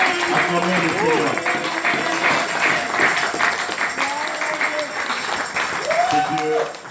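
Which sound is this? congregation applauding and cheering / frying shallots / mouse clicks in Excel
congregation applauding and cheering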